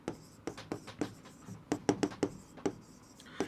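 Chalk or marker writing an English sentence on a classroom board during an English tense lesson, a run of short scratchy strokes and taps in uneven rhythm, close and fairly quiet, with no talk over it.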